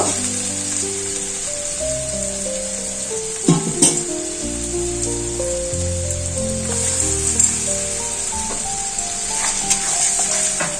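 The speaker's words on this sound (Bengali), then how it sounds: "এই মশলাটা অল্প করে একটু কষিয়ে নেব বেশি কষাবো না" A ground spice paste with turmeric and softened tomato, plus a little water, frying in a pan for shukto, giving a steady close sizzle with occasional light stirring taps throughout, no talking.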